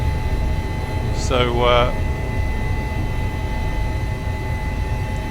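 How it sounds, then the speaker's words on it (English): Helicopter cabin noise at about 12,800 feet in the Alps near Chamonix and the Aosta Valley, a steady, loud broadband drone with tonal hum running the whole time, with a brief spoken word early on. "I can't remember the last time I was anywhere near this altitude in this helicopter"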